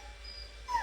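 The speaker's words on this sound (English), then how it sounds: "There goes the dog." A dog lets out a short, high whimpering yip at the end of a quiet stretch, close and moderately loud against a low hum.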